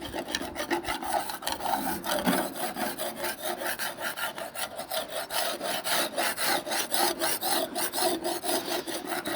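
Continuous rhythmic scraping of primer off the paint of an Alfa Romeo GTV, a rough rasping stroke repeated back and forth over the surface, close and steady throughout.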